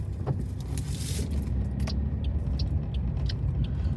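Steady engine and road rumble from a car driving along a town street, continuous and fairly close throughout, with a few faint rattles and clicks inside the cabin and no talking.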